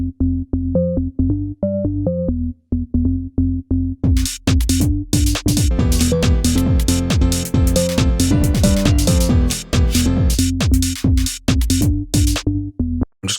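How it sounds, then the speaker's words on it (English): A synthesizer organ bass made in Serum plays a steady, rhythmic line of deep held tones, joined midway by brighter chords and percussive layers, loud and up close. "Okay, so the organ bass, it sounds like this."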